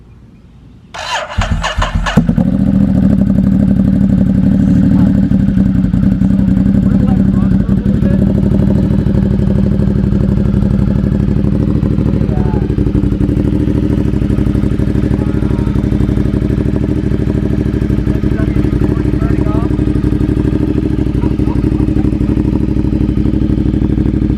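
A Ducati Monster 1200 with a Termignoni exhaust and race filter cranks briefly with a clatter, fires up, then settles into a loud, steady, rumbling idle that lasts to the end.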